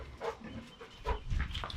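A dog on a farm barks at pigs near a portable pig shelter, a few short, moderately close barks in quick bursts with some shuffling noise between them.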